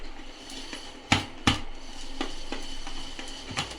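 Fish curry with green chillies being gently turned in a pan, a few sharp close scrapes and knocks spaced apart, the loudest two near the start, over a low background hiss.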